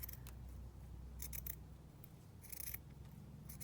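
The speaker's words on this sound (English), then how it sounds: "So I'm just going to cut this round." Scissors snip through fabric for a junk journal cover in a few quick, quiet cuts over a soft steady background hum, with no voices.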